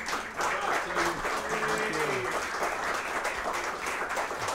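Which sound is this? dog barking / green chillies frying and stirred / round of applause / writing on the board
round of applause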